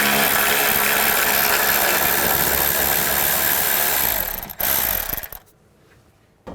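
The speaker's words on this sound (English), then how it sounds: "Now I'm going to use a 10mm socket. There's a bolt right here. Take this bolt off." Ratchet with a 10mm socket working a bolt loose on a 2011–2017 Chrysler 200 during a water pump job, a dense continuous whirring rattle close up that cuts off sharply near the end, leaving quiet.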